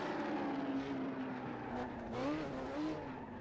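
A 1967 Lotus 49 Formula One race car slides through a corner at Watkins Glen, its engine a steady, loud drone whose pitch wavers and climbs slightly as the car drifts, with no talking over it.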